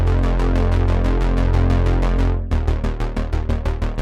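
A short, plucky synth bass plays a fast repeating pattern of clipped notes, sustained at first, then turning choppier and thinner after a brief break.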